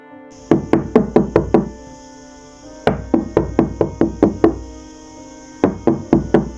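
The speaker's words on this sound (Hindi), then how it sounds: "दरवाजे पर दस्तक होती है" Three quick bursts of about six sharp knocks each rap on a door, each run separated by a short pause, loud and close in a cartoon story scene, with no other sound around them.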